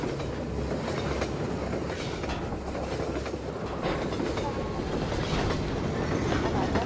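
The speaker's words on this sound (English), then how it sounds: "That's a train." A train rolls past in the video game Half-Life 2, a loud, continuous rumble with rhythmic clattering wheels and no talk over it.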